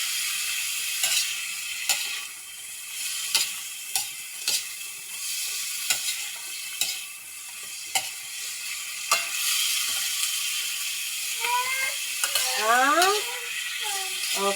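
A dish frying in a pan is stirred, with a steady sizzle under regular scraping strokes of the spoon against the pan, close up; toward the end a brief voice-like warble rises over the frying.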